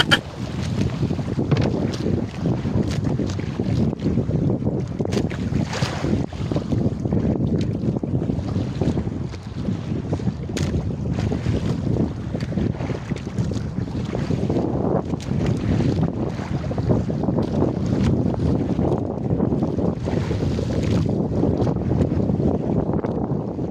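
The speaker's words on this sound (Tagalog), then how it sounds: "Malalaki din po nga na yung alon." Heavy sea waves roll and crash beneath steady, loud wind buffeting the microphone, a continuous roar with no voices.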